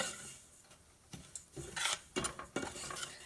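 Semolina roasting in a pan for rava kesari is stirred with a utensil, making dry scraping and clinking strokes that grow busier and louder toward the end, close by with no talk.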